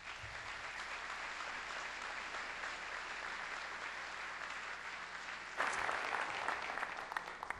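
An audience applauds steadily to welcome a speaker, a dense, even wash of clapping that swells slightly louder near the end, with no talking.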